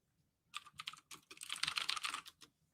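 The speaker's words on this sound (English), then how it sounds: "His parents just smashed the keyboard." Rapid, random keyboard mashing on a computer keyboard, close and clattering, starting with a few separate strikes and building into a dense flurry of keystrokes before trailing off.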